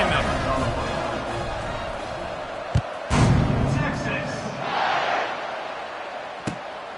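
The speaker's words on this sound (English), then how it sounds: "Set to kick it off, and this crowd now ready to get behind them." Stadium crowd noise swells at kickoff in the NCAA 26 college football video game, a steady roar with a few sharp thuds and a louder surge midway, heard under ongoing broadcast-style commentary.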